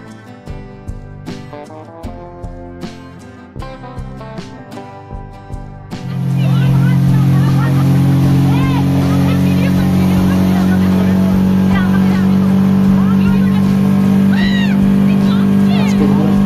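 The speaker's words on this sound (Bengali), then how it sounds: "এবার বোটে উঠছি আমরা, লাইফ জ্যাকেটও পরতে হবে।" A motorboat on a lake at Netarhat starts up after a stretch of music and then runs steadily and loud, its engine drone continuous for the rest of the ride.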